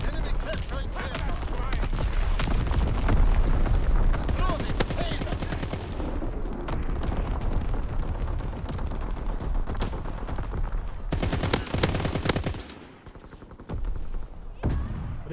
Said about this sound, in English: Firing battery one. Target position confirmed.